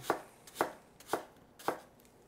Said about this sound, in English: just a rough chop, rough dice, about like so. Repeat that process for all of your apples.